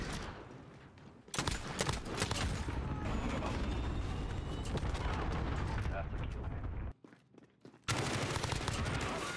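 Sustained automatic gunfire and explosions from a Call of Duty Modern Warfare multiplayer match roar continuously, briefly cutting out near the end before resuming, with a player talking over the shooting.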